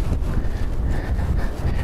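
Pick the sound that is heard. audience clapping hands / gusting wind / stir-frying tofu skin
gusting wind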